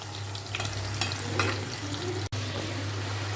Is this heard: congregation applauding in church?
no